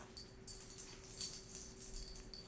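A dog whimpers in soft, high-pitched bursts, fairly close, over a steady low hum, with several thin whines rising and falling across the moment.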